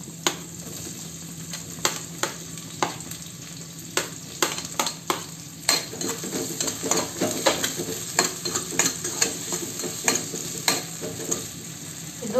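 Chopped onion and tomato sizzle steadily in hot oil as a spatula stirs them in regular scraping strokes against the pan, close and fairly loud, with no voices.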